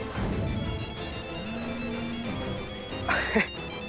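A mobile phone rings with a ringtone, a moderately loud electronic melody with a brief burst near the end, with faint background voices in a domestic scene.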